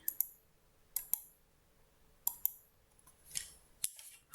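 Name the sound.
coloured pencils being moved around on a table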